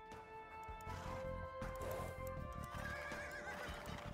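A horse in the game Age of Empires II: Definitive Edition gives a loud, wavering whinny while hooves clip-clop beneath it, a brief close burst with game ambience.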